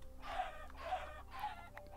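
Chickens cluck in the survival video game Primal Skies, three rhythmic bursts of clucking over a low steady game hum, moderately loud with no talking.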